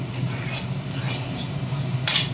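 Small shallots hitting hot oil in a pan for a village-style country chicken rasam, giving a steady close sizzle with light stirring scrapes and a brighter burst near the end.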